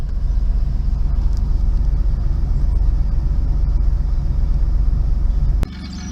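A 1997 Pontiac Firebird with a V6 engine idles with a loud, deep, steady rumble close by, which drops abruptly to a quieter hum near the end.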